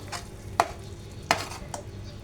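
A spatula scrapes and stirs a ground spice paste of red chili, garam masala and turmeric in a hot pan, giving a few sharp clacks of utensil on metal over a low, steady sizzle.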